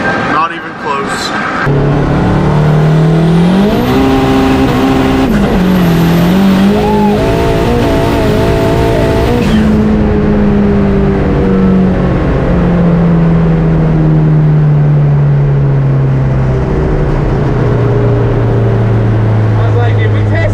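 A big-turbo SRT4 and a C6 Z06 race car rev and accelerate loudly, engine pitch climbing through gear changes and then settling into a sustained, droning pull that slowly falls, continuous throughout.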